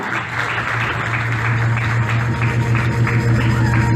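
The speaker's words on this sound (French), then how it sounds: "On va pas se lasser de l'applaudir" A crowd at an Ivorian diaspora community cohesion day gives a sustained ovation, thick continuous clapping at a loud, even level throughout, with a low steady hum underneath.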